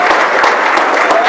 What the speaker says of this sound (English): Let's give Josiah a round of applause.